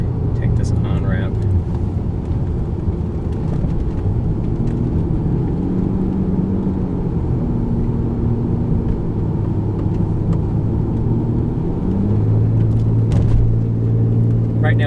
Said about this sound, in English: Just want to show you the passing power of this car.